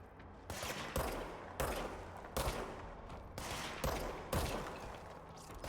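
Enemy gunfire in the video game Control comes in about eight sharp, evenly spaced bursts, each cracking out then trailing off, fairly faint overall with no talk over it.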